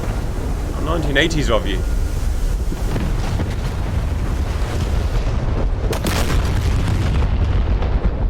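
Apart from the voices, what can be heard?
laser guided bombs exploding in a video game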